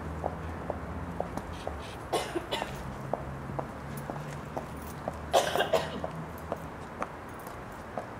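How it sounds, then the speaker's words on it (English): Several short coughs ring out at a distance, including a cluster of harsh hacking coughs, over a quiet outdoor hum with scattered clicks. "People coughing from the chemtrails."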